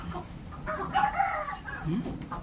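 Native country chickens cluck and murmur nearby on a poultry farm in Madurai while a rooster crows in the middle, with a busy farmyard background.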